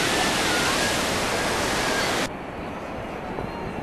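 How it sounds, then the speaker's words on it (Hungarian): Niagara Falls roaring as a dense, loud, steady wash of falling water, close and unbroken, dropping abruptly to a quieter rumble partway through. "Egy kicsi vízesés és a nagy."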